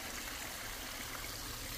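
A stream runs beside a hiking trail on the Appalachian Trail in autumn, giving a steady, even rushing and trickling of water throughout, with no voices.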